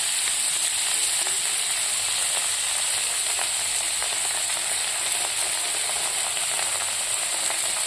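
Tomato sauce and soy sauce frying in a pan for thenthuk noodle soup, a dense, even sizzling hiss that stays close and constant for several seconds, with no talking.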